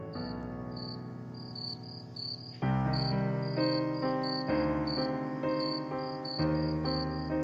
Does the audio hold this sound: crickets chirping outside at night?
yes